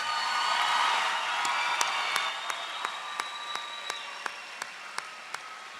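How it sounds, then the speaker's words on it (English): At the 146th Port Huron High commencement in 2014, the audience applauds the graduates. A broad wash of clapping fades, leaving a few sharp, evenly spaced claps that carry on alone. "Parents, let's give your sons and daughters a nice round of applause."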